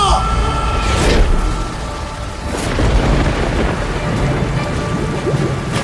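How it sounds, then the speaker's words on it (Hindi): Thunder and rain sound effect: steady heavy rainfall with rolling thunder cracks, loud and close, recurring through the stretch. "अचानक जोर की बिजली कड़की"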